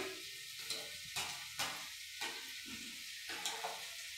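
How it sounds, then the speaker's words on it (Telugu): Okra frying in a pan sizzles softly while being stirred, with regular scraping strokes roughly every half second over a low, steady crackle at close range. "బెండకాయ ఫ్రై అవుతుంది"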